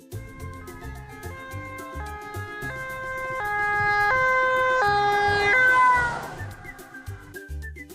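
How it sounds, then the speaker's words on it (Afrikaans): An ambulance siren wails in rising and falling tones, swelling louder toward the middle before fading, over a low background rumble, with no voices. "Dit is 'n ambulans."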